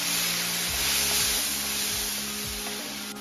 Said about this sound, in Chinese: 从锅边淋入米酒